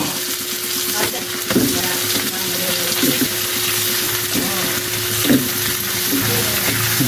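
Shrimp sizzle and fry in butter with golden-browned garlic, a loud steady crackling hiss with occasional stirring clatters of a utensil against the pan.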